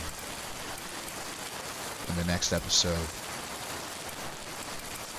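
Steady rain falls in the video game Behind the Frame, a soft even hiss running throughout while a voice speaks briefly over it in the middle.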